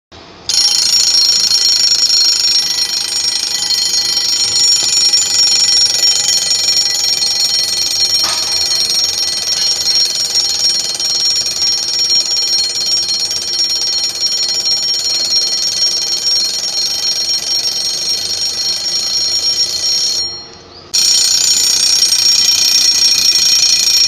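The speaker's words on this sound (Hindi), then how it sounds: "इसका अलार्म का साउंड आप सुनिए" A vintage all-metal alarm watch rings with a loud, continuous high-pitched buzzing trill that briefly cuts out near the end before resuming, with no talking over it.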